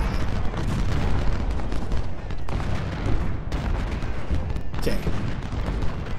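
Continuous booming artillery and massed gunfire in a Civil War battle in the strategy game Ultimate General Civil War, a dense rolling rumble with someone briefly speaking over it.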